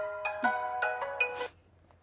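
A mobile phone rings indoors, playing a short repeating melodic ringtone in four quick bursts before stopping.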